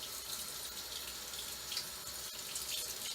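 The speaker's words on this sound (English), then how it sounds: "So I'm just rinsing all of that stabilizer off this." Tap water runs steadily into a sink, rinsing stabilizer from an in-the-hoop embroidered wine bottle tuxedo apron, a continuous close hiss and splash heard alone for a few seconds.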